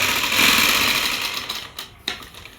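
A sewing machine stitches lace onto fabric along a corner, running in a fast, even whir for most of the stretch before slowing and stopping, followed by a short sharp mechanical clack.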